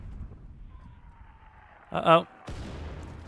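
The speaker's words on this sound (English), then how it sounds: "That would be a cannon." A cannon blast booms in the Red Dead Redemption 2 game as the army gives chase: one sharp, loud shot followed by a rolling rumble, after a short spoken exclamation.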